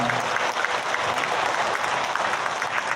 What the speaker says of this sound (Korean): 여러분 다 같이 큰 박수로 보답해 주시면 고맙겠습니다.